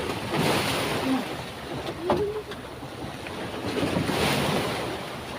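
Ocean waves and strong wind at sea aboard a small fishing boat, a continuous rushing roar with wind buffeting the microphone and surges of water swelling and fading.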